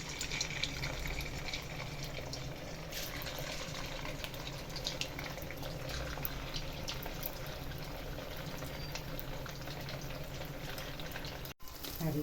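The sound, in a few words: sooji french fries frying in oil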